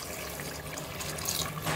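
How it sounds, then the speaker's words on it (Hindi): A glass of water poured into a cooking pot while making mutton khichda, a steady splashing pour heard up close for a couple of seconds with no talk. "हम इसमें 1 गिलास पानी डालेंगे।"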